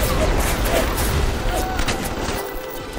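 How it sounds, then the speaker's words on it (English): Dense, continuous gunfire and explosions from the video game Bioshock, a chaotic loud barrage of shots and booms filling the whole stretch with no pauses. "There's so many explosions and shooting."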